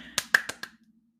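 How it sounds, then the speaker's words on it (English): Four quick, sharp hand claps ring out close by in an even rhythm, then fade into a short, quiet tail. "that's me randomly clapping"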